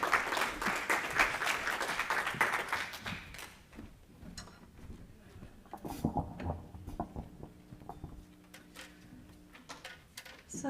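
An audience at a live event claps loudly for several seconds; the applause fades into scattered claps and hand taps, then murmurs and faint room noise.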